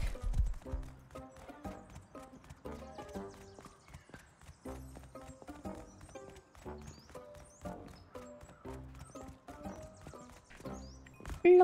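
Horse hooves clip-clop steadily in the survival video game Rust, a brisk rhythmic patter of close footfalls with an occasional whinny, heard alone without talk.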